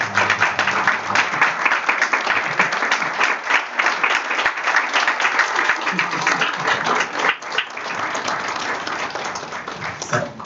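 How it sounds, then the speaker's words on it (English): Steady audience applause at a conference on national budget practices, with many hands clapping continuously and fairly loudly for about ten seconds, no speech on top. "Let's give them a round of applause"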